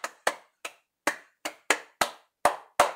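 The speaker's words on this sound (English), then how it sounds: "another round of applause" Nine sharp, separate hand claps in an irregular rhythm, close and fairly loud, each with a quick decay and clear gaps of silence between them, with no voices alongside.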